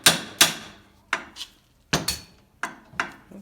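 A hammer taps sharply on a Chevy Traverse u-joint during replacement, about eight close metallic knocks in loose pairs, each bright strike ringing briefly and decaying.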